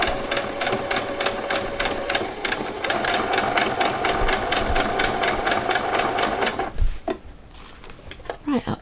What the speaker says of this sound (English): So we're going to do a few stitches forward and then back stitch